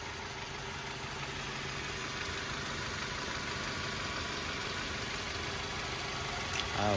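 A 2010 Mazda 3 with a 2.0 liter 4-cylinder engine idling under an open hood, a steady close-up hum with an even mechanical rhythm and no talk.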